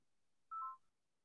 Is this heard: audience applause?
no